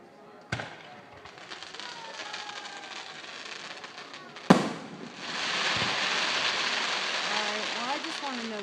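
Fireworks over Goleta, California, with two sharp booms a few seconds apart, each trailed by crackling sparkle, the second giving way to a sustained fizzing crackle, while people talk faintly nearby.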